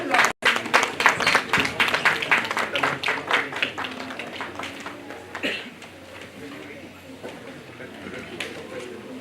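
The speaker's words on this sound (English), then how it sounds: "A big round of applause." An audience at a national conference session applauds as a speaker is invited to the stage, brisk clapping that swells early, then thins and fades toward the end with a voice faintly underneath.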